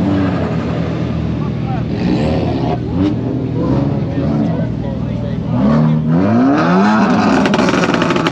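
A Toyota GT86 revs loudly at the Tanoshi car meet 2023, its engine note rising and sweeping in pitch amid a continuous din of other nearby engines, with people talking over the noise.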